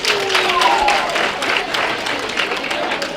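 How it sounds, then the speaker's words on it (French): A crowd applauds steadily, dense clapping filling the whole stretch, with a faint voice briefly audible underneath. "Applaudissez."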